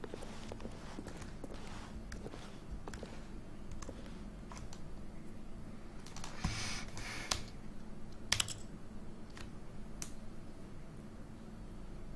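Quick, uneven clicking of a computer keyboard being typed on up close, with a few sharper clacks standing out from the steady patter.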